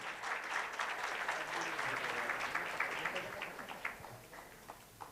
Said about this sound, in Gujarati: એટલે ફરીથી એક જોરદાર તાળી થઈ જાય.